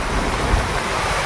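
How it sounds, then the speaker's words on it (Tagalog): Strong gusty wind roars and buffets outdoors during stormy weather, a brief, loud, steady rush with no voices. "lakas ng hangin na naman"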